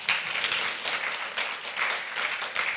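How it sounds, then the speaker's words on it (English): An audience at a carbon removal conference claps for a volunteer coming up on stage, a moderate, fairly distant wash of applause that swells and eases in waves for a few seconds. "Give him a round of applause."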